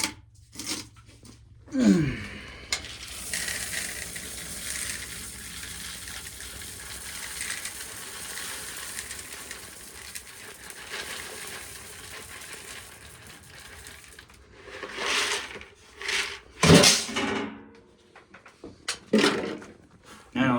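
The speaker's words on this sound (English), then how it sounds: "I gotta dump the coffee cans" A loud rattling pour of dry shelled corn kernels dumped from coffee cans in a couple of bursts, with quieter handling noises and mostly silence between.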